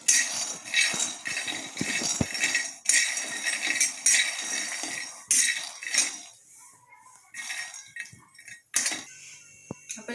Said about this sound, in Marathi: शेंगदाणे आणि खोबरं भाजून घेणार आहे।